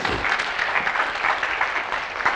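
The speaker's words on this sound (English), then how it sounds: "clap for that, right?" Audience at an academic symposium lecture breaks into brief, moderate applause, a scattered wash of clapping with no talk over it.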